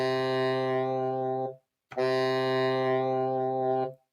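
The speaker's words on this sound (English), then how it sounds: "here's the sound of a saxophone." Two sustained tenor saxophone notes, rich and reedy, held for over a second each with a brief silence between them.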